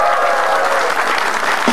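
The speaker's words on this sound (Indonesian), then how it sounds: "Tepuk tangan dulu dong" A stand-up comedy audience claps in a sustained, even round of applause, the crowd's clapping filling the room near and loud.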